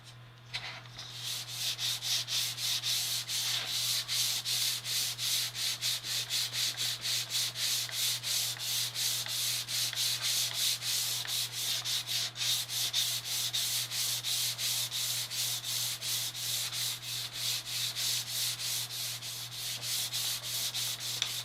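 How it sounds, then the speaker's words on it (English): Steady rhythmic sandpaper strokes with 320 grit on a model of the USS North Carolina battleship, a fast even back-and-forth rasping close up that continues without pause and with no talking. "I'm actually going to come in with some sandpaper."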